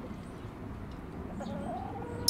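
Backyard chickens cluck softly in fresh snow, quiet scattered calls over a faint steady background hiss, fairly distant, with nobody speaking.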